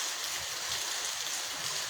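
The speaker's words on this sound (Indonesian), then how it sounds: "kita toli-toli kembali mulai diguyur hujan. Namun belum demikian deras." Light afternoon rain falling in Toli-Toli, a steady even hiss of fine drops with no distinct impacts, continuous and moderately quiet throughout.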